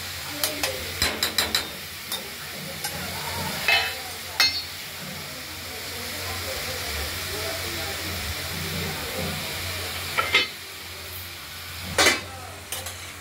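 Ash gourd curry with black cumin, chilli and garlic gets stirred in a pan, a few scraping strokes of the spoon breaking through a steady low simmering hiss, with longer quiet stretches between the bursts.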